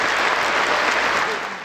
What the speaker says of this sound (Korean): 이왕 박수 치는 거